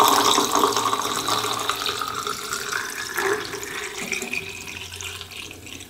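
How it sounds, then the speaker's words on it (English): Photographic film fixer pours steadily into a developing tank up close, a continuous splashing trickle lasting several seconds before easing off. "We're going to pour our fixer in."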